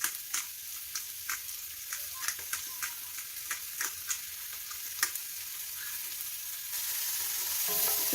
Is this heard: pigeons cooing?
no